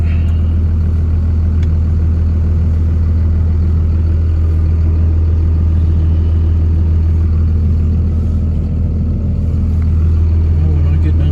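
Low, steady drone of a truck engine running during cattle feeding on a frozen January day, heard from inside the cab as a constant rumble with no talk.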